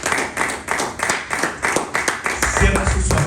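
A church congregation claps steadily in a rhythmic beat as an offering of praise to the Lord, full and close, with voices and other sound mixed in underneath.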